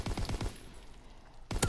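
Burst of MG15 machine gun fire in the WWII shooter Call of Duty WWII, rapid loud shots for about half a second, a brief lull of trailing noise, then another sharp shot.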